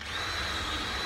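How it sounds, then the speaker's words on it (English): A steady, high-pitched whine of a power drill drilling pilot holes for screws during a narrowboat fit-out, running continuously for about a second, close by and fairly loud, with no talking. "So all I'm doing now is just drilling"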